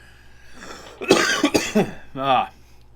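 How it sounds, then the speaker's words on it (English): A person coughs several times close to the mic, the harsh bursts followed by a short throaty rasp. "I can't even laugh without coughing."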